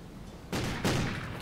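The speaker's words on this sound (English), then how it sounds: "Right when you said that, I shot you." Two sniper rifle shots in the game Call of Duty Ghosts, loud sharp blasts about a third of a second apart, each trailing into a short rumbling decay.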